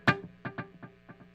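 A struck guitar string rings out with a strong attack, followed by several fading delay repeats spaced roughly every eighth of a second, each echo softer than the last.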